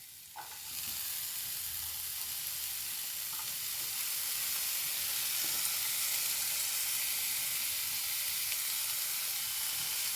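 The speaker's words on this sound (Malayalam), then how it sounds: "നമുക്ക് എടുത്തു വെച്ച ഉള്ളി ഇട്ട് കൊടുക്കാം" Chopped onions hit a hot pan for kothu chapati, giving a steady, close frying sizzle with a bright hiss that holds at an even loudness throughout.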